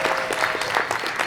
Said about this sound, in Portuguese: então eu queria pedir um aplauso para os dois.